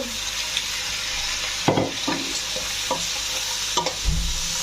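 Ingredients sautéing in a pan for papaitan, an Ilocano dish, with a constant sizzle broken by several close stirring scrapes and knocks of a utensil against the pan.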